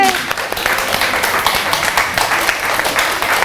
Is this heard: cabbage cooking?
no